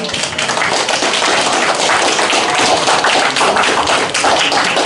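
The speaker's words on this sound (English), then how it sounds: "Let's have a big round of applause for our brave frontline debaters" Audience at a live debate event applauding the debaters, a dense, loud, continuous round of clapping from many people, with a few voices faintly mixed in.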